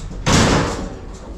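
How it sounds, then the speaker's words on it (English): A barn door slams shut with a single loud, close thud, followed by a fading rumble and quiet background noise. "Shut the door first"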